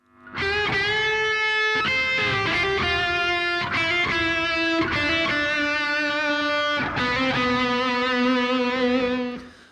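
Electric guitar with effects and some distortion playing Dorian mode scale tones, a series of sustained, ringing notes picked one after another, loud and close, with no talking.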